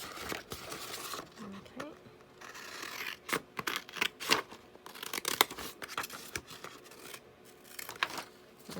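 Scissors snip and rustle through scraps of packaging material for a craft project, with crinkling and scraping handling sounds close by, and a voice briefly speaks.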